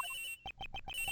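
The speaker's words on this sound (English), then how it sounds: "This has gotta be the victim's cell phone." The victim's cell phone rings in the Ace Attorney Investigations video game, a quick electronic ringtone pattern of short pulsing chirps in rapid succession, clear and close with no voices.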